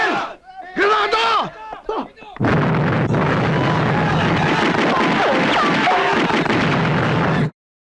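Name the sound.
grenade explosion in action film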